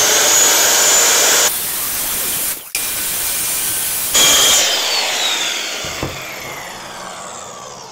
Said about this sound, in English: Next piece I'm gonna go ahead and cut, I'm gonna cut this side over here again.